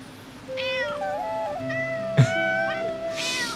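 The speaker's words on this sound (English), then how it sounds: "I actually got surprised at the cat sound." Recorded cat meowing plays in a string of clear, tonal mews with rising and falling pitch, a short sharp knock partway through, loud and close with no one talking.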